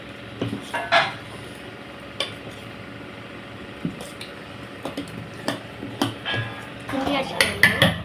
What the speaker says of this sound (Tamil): மாவு கிண்டிக்கணும்